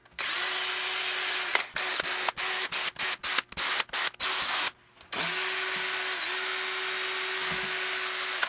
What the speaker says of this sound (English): You can get your small buffer kit out and get in where you may have some corrosion already starting up.